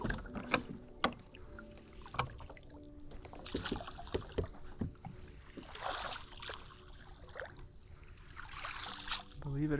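A brand-new kayak is paddled through shallow river water, with soft splashes, trickles and hull knocks coming at irregular intervals, close by, while someone talks over them.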